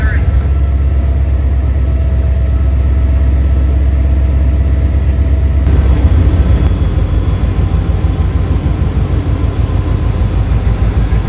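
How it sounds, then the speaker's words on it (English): A freight train rumbles past near a rail yard with a steady, loud low engine drone and rolling rhythm that shifts midway as it moves on; no voices. "there's a train out there"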